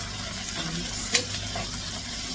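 Onions and curry leaves frying in a pan while being stirred, a steady low sizzle with soft scraping strokes and one brief clink near the middle, no talking.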